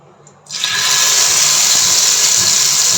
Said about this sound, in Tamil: ஸோ இந்த மாதிரி நல்லா சவுண்டு வருது நம்ம பன்னீர் டிக்கா ரெடி ஆயிடுச்சு